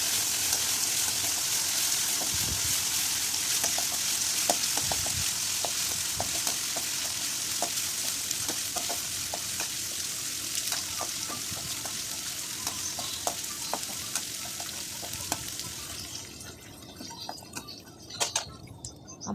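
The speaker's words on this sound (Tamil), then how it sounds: "எண்ணெய் சூடானதும் இஞ்சி பூண்டு பேஸ்ட்டு போட்டு நல்லா வந்து பச்சை வடை போகிற அளவுக்கு அதை நல்லா" Ginger garlic paste sautéing in hot oil in a kadai, a steady close sizzle and crackle running throughout with scattered stirring clicks and taps, no voices.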